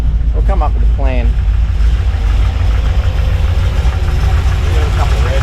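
A Holden Astra engine idles steadily while warming up, a constant low rumble that fills the clip, with brief voices near the start.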